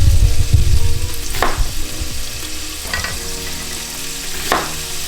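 Onion and potato frying with pork in a pan, a loud sizzle at first that settles into a steady crackle, with several brief scraping stirs along the way.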